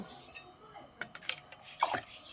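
Bath water being readied in a bowl, with light splashes, drips and liquid stirring in short scattered bursts, close and fairly quiet.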